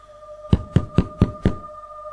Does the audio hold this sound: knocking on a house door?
yes